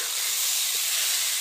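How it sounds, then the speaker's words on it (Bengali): Marinated soaked rice frying in a pan for Basanti pulao gives a steady, close, even hiss with no breaks. "ম্যারিনেটেড চালটা আমি এর মধ্যে দিয়ে দেবো, দিয়ে 2-3 মিনিট এটাকে খুব ভালো করে একটু ফ্রাই করে নেব।"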